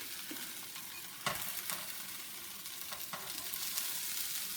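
A Cheetos grilled cheese sandwich frying in a pan over low heat gives a steady broadband sizzle, with a few brief scraping or stirring clicks standing out. No one speaks.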